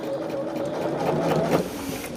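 A sewing machine stitches a quilt seam for a mystery quilt in a home sewing room, a continuous close mechanical whirring with a brief rise near the end, no talk over it.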